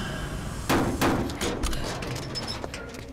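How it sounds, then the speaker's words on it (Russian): Hammering from a neighbours' renovation comes through as a few heavy, uneven knocks spaced about half a second apart. A dull background hum runs beneath them, and no one speaks. "И сверлят, и сверлят."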